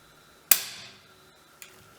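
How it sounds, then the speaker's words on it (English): Sharp, crisp metallic click of a Sauer 202 rifle's standard single-stage trigger being pulled and the firing pin snapping, with a short ringing decay and a fainter second click a second later. "This will just illustrate the standard trigger on the rifle"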